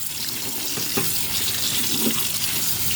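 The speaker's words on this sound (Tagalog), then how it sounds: "Hugasan nyo muna kasi po may wax ito." Tap water runs steadily into a sink while instant noodles are rinsed to remove wax, an even rushing hiss with faint splashes and no pauses.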